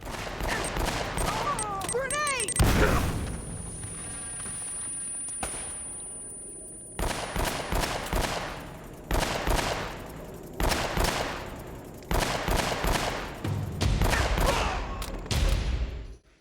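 Gunfire crackles through a firefight in the video game Uncharted: Drake's Fortune, with loud rapid bursts and single shots coming in clusters separated by brief lulls, and a spoken voice running beneath parts of it.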